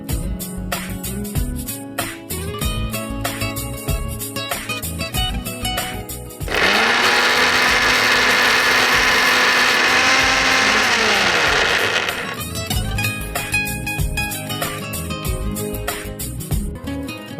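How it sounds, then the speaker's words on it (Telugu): A kitchen mixer grinder blends brinjal and coriander into a paste with a loud, steady whirring drone lasting about six seconds in the middle, with music before and after. "సో ఇది మిక్సీ పట్టేసి మనం పేస్ట్ రెడీ చేసుకుందాం."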